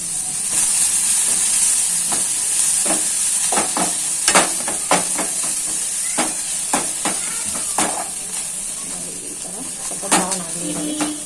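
Onions and chopped fenugreek leaves fry in oil in a pan, giving a steady close sizzle and hiss with scattered clinks and stirring scrapes, and brief speech in the background.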